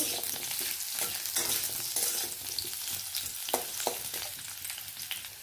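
Potatoes fry in a pan for an Odia bottle-gourd stem recipe, giving a steady, close hiss and crackle with occasional sharper pops throughout.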